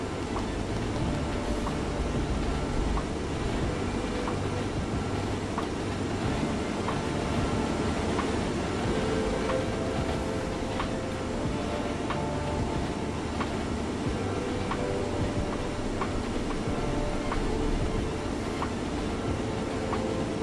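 Continuous rumbling of a train in the video game Rolling Line, with a steady mechanical drone and faint periodic clicks of wheels over track joints; no voices.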